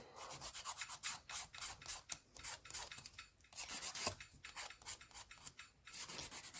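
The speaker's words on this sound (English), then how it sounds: "you don't have to watch me filing for so long" A nail file rasps over gel nails in quick, rhythmic back-and-forth strokes, close and fairly quiet, with steady scratching and no talking.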